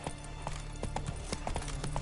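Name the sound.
horse hooves clip-clopping, from video game The Witcher 3: Wild Hunt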